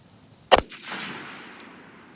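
A single sharp crack from a Springfield 1903A1 rifle fired on an outdoor range, loud and close, followed by a rolling echo that fades over the next second or so.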